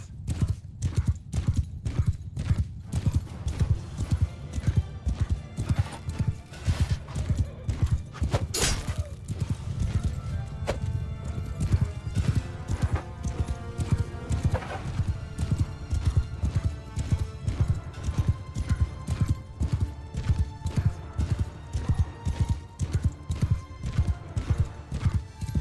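Rapid rhythmic hoofbeats of galloping cavalry horses in Mount & Blade 2: Bannerlord pound steadily throughout, with occasional whinnies and clashing noises layered over the drumming clatter.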